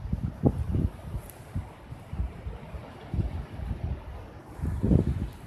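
Ocean waves break on a cold beach at night under steady wind noise, with low rumbling surges and two stronger wash-ins near the start and end.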